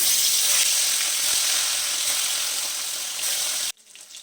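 Small fish sizzle loudly after being placed one by one into smoking-hot mustard oil, a steady bright crackling hiss that holds for nearly four seconds before dropping away abruptly to near quiet.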